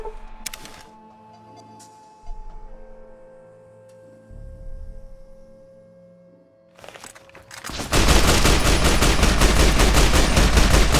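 Gunfire in Fallout: New Vegas, a few scattered sharp shots and mechanical clicks over a quiet hum, then a loud rapid burst of continuous fire at the end.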